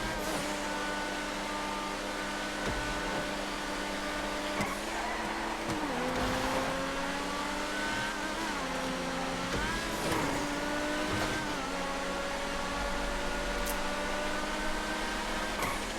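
Nero race car engines in GTA 5 whine steadily, pitch rising and dipping with gear changes as cars pass, a continuous moderately loud drone with no talk.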